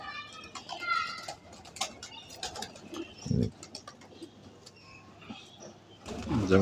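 Pigeons coo softly in a quiet space, low murmuring calls with a few scattered higher chirps and rustles.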